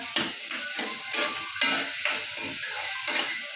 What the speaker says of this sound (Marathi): आता आपण पूर्ण कांदा टाकून घेऊया पूर्ण कांदा